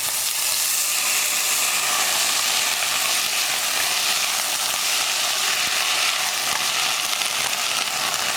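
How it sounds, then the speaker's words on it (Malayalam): Green peas and mixed vegetables sautéing in a pan for a green peas stew give off a steady, dense sizzle with faint stirring scrapes, continuous and close throughout, with no talking. "ഗ്രീൻ പീസും കൂടി ചേർത്ത് നന്നായിട്ട് വഴറ്റിയെടുക്കുക."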